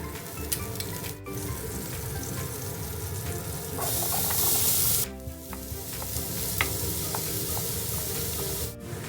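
Onions for potato soup sizzle and crackle steadily in a hot pot, with a burst of louder hissing midway and occasional clinks of a utensil stirring.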